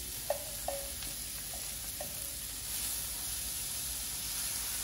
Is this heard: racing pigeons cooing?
no